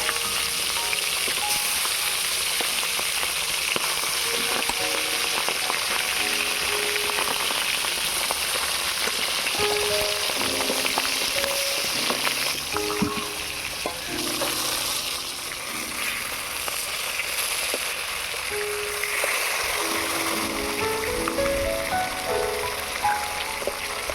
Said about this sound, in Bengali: তেল গরম হয়ে গিয়েছে, এবারে মাছের মাথাগুলো ভেজে নেব।